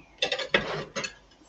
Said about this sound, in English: So I'm just going to whisk it, whisk the milk into the flour.